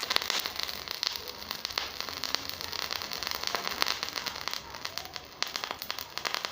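Sharp irregular crackling and popping as potassium permanganate and glycerine react and catch fire, sputtering densely at close range with no talking.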